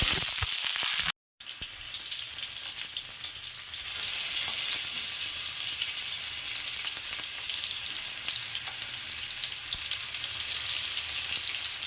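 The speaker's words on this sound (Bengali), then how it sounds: "তেলটা গরম হয়ে গেছে তাওয়াটাও গরম হয়ে গেছে এখন আমি এই বেগুনগুলোকে একটা একটা করে বসিয়ে দেবো এইভাবে" Eggplant slices fry on a hot griddle in mustard oil, giving a steady, fairly close sizzle that cuts out for a moment and then resumes slightly louder, with no talking.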